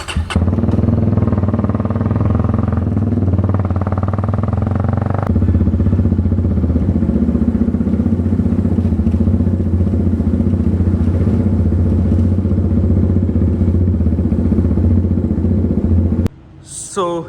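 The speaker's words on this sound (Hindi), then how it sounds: "चलो बाइक को करते हैं स्टार्ट और चलते हैं बेसमेंट में।" A Jawa 42 Bobber motorcycle with an upswept exhaust idles and runs steadily with a low throbbing rumble, close by, shifting slightly partway through before cutting off near the end.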